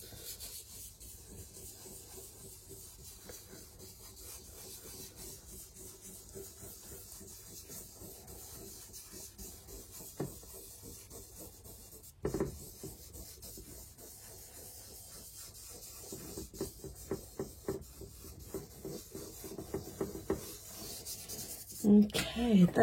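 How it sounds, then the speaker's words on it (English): A clean finger rubs pencil into paper in small circles, giving a soft, steady dry rasping close by with faint scratchy bursts and a few louder strokes near the end. "Clean finger, small circular motion, rubbing it into the paper."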